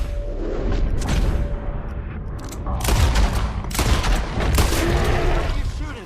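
Gunfire in Red Dead Redemption 2, a loud, dense volley of overlapping shots and booms crackling for several seconds with no break.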